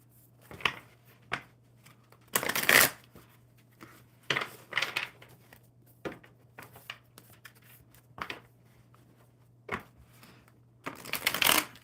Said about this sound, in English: Oh, gosh, I forgot how to shuffle.